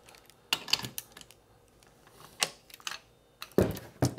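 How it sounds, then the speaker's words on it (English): Bolts and nuts being taken off a Victron Lynx Distributor produce sparse metallic clicks and taps at close range, coming in short irregular clusters with quiet pauses between them. "first thing we're going to do is remove all of the bolts, and remove all the nuts"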